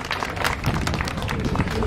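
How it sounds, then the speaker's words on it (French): An outdoor audience claps steadily for a police dog that has just made a successful find at a gendarmerie and police demonstration in Paris, a dense, moderately distant patter of hands throughout. "On peut l'applaudir très fort."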